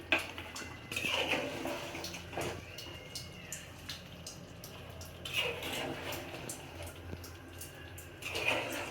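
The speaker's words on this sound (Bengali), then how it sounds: "এখন নেড়ে চেড়ে দিচ্ছি" A desi chicken curry with garam masala is stirred in a pot. Intermittent spoon scrapes and clinks against the metal come in uneven bursts over a quiet kitchen background, with no speech.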